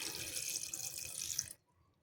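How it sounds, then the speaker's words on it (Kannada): Tap water runs in a steady, bright gush while drumstick greens are cooked for dal, then cuts off abruptly near the end and leaves a quiet kitchen. "ನೀರು,"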